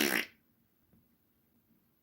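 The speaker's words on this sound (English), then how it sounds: "No, that was called Thanksgiving turkey farts." A short, loud fart sound effect bursts out at the very start, then quickly fades to near silence.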